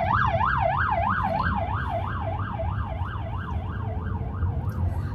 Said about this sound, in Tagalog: Wala, may ambulance.